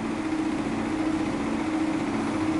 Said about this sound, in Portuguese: Não vai ser a palavra moto, e sim o som que ela emite.